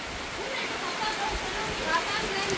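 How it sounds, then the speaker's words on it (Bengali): Rain falls during outdoor cooking, a steady soft hiss of drops spread evenly through the clip with a voice present over it. "দেখেন অবস্থা কি, বৃষ্টি শুরু হয়েছে।"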